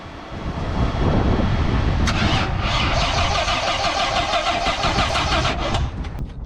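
An engine on a CJ7 Wrangler project vehicle cranks and catches with help from a jump starter, then runs loud and steady for several seconds before dropping off slightly near the end.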